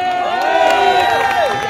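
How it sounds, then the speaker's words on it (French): A crowd at a protest rally in Nice cheers and applauds, with sustained shouting and a steady wash of noise holding loud throughout. "je vous demande de faire un tonnerre d'applaudissements"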